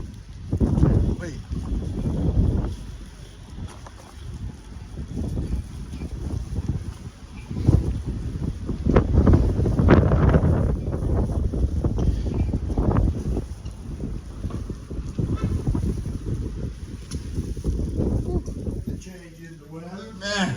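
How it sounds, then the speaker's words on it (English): Strong wind buffets outdoors beside a 26ft box truck on a moving road trip, a loud rumbling gust that rises and falls throughout with mic buffeting, while people talk. "Man, it's windy."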